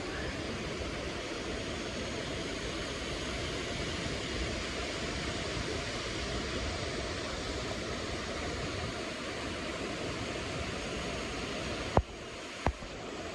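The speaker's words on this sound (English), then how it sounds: "More waterfalls." Steady broadband rush of waterfalls in the Ordesa mountains, a constant roar of falling water filling the scene without pause, with two brief sharp clicks near the end.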